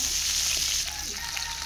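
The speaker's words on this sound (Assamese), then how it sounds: "এতিয়া তেলখিনি ইয়াতে পিঁয়াজ এড কৰি দিছোঁ।" Onions sizzle loudly in hot oil in a kadai, a dense, bright crackle of frying that eases slightly partway through.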